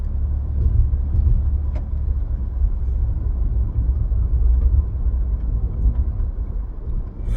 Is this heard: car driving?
yes